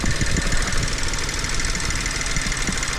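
A 2021 Chevrolet Trailblazer's 1.3-litre three-cylinder turbo engine idles close by, giving a steady, uneven low rumble with a faint knocking pulse under a constant hiss. Nobody speaks.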